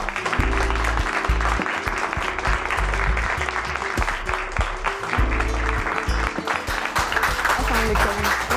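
Studio audience applause on a Pakistani television talk show greets the guests as they arrive, dense steady clapping filling the whole stretch at fairly loud level, with a host's voice and some music-like tones showing faintly underneath.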